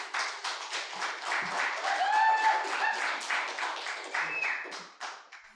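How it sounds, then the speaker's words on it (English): An open-mic storytelling audience claps warmly for the next storyteller, a steady patter of hands with faint cheers, moderately close and fading out near the end. "Please give a very, very warm round of applause for John"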